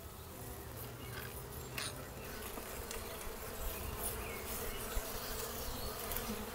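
Dense, steady buzzing of many honey bees close by at an open hive, a continuous swarm hum with occasional louder passes.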